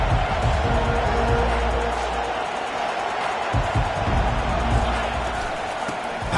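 A college football stadium crowd roars with a broad, sustained wash of cheering and noise, loud and continuous, with occasional thumps and a faint announcer-style voice underneath.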